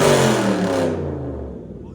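A Dodge Challenger Scat Pack 392 with its 6.4L HEMI V8, manual gearbox and aftermarket exhaust gives a loud, close rev. The rumbling engine note then drops away and fades within two seconds.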